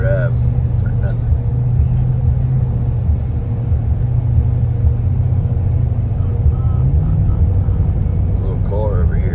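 Car driving in slow road traffic: steady engine rumble and road noise from inside the vehicle throughout, with a voice talking over it.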